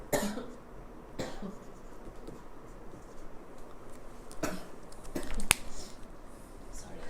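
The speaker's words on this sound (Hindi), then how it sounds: "खांसी आ रही है" A few faint coughs at scattered moments over a low background hiss, one sharper burst near the end, with no clear talking.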